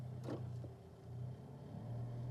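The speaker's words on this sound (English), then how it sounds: "engine's right behind me" A low engine rumble from a 2015 Alfa Romeo 4C Launch Edition idles close by, with a faint high whistle and a brief knock, steady and fairly quiet.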